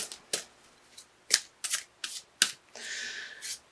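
Oracle cards from Doreen Virtue's Archangel Michael deck being shuffled: several quick, crisp riffling bursts, then a longer steady flutter of cards close up, with no talking.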